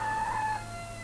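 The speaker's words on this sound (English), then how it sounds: "you actually hear that cockerel going off quite a lot" A cockerel crowing outdoors in a residential area, a single brief high call, faint and somewhat distant, heard alone.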